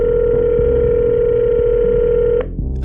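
A telephone call from an unregistered number, heard as a loud steady electronic tone held for over two seconds before cutting off abruptly, with no voices.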